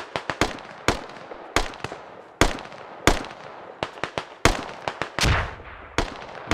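Repeated sharp gunshots from Operation: Coiled Cobra, a military video game, crack out in irregular close bursts, some shots overlapping, with a heavier boom near the end.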